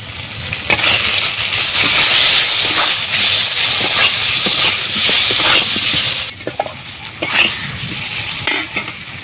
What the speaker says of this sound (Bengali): লবণ দিয়ে খানিকক্ষণ ভেজে নিয়ে এবারে দিয়ে দেবো লঙ্কা গুঁড়ো এবং হলুদ গুঁড়ো।